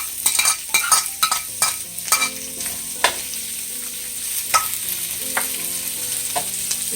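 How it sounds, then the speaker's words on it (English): Onion sautés with carrots, green beans and celery in a pan for pancit bihon. A steady sizzle runs throughout, with sharp stirring clanks of a utensil against the pan, densest at the start. "I'm gonna saute this first"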